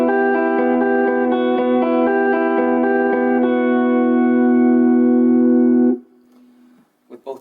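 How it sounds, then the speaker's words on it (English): Electric guitar through the dry side of an effects rig with no modulation or delay, clean sustained notes playing a slow melodic line for about six seconds, then stopping abruptly. "with no modulation or delay, it's just the unaffected signal that sounds like this."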